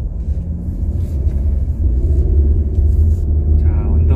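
A SsangYong Tivoli Air compact SUV climbs a hill, its engine a steady low rumble heard from inside the cabin, loud and continuous with a slight rise as it pulls upward.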